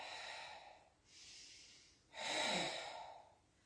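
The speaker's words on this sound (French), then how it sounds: "j'inspire, je souffle" Slow breaths in and out during a Pilates exercise, one softer inhalation followed by a stronger, audible exhalation, close and alone with no talking.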